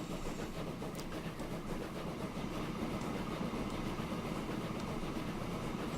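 A train runs in the Transport Fever video game, its steady rolling rumble and faint rail clatter continuing evenly for the whole stretch with no talk.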